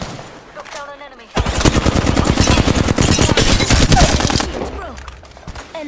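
Rapid automatic gunfire bursts in the battle royale video game Apex Legends, loud and sustained for several seconds with dense rattling shots, preceded and followed by brief game voice lines.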